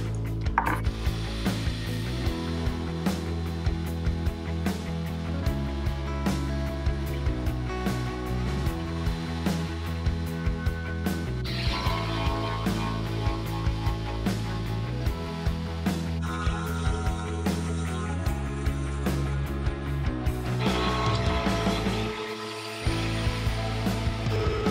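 A handheld router fitted with a spiral bit cuts a circle into a wood panel in shallow passes, a loud, continuous high whine with rhythmic chattering pulses that shifts in tone as the bit travels around, then briefly cuts out near the end.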